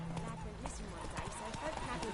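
Hooves of Roach, the horse in the video game The Witcher 3, clip-clop at a steady walking rhythm under a busy game soundscape, with character dialogue talking over them.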